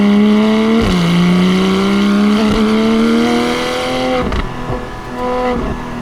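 Porsche GT4 with PDK gearbox, engine and exhaust heard from inside while driving, a loud sustained drone that climbs steadily in pitch, drops briefly at a shift, then rises again with a short dip near the end.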